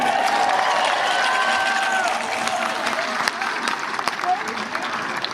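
Large outdoor rally crowd in a public plaza in Santa Barbara applauding and cheering, a steady broad wash of clapping that stays loud throughout, with voices mixed in.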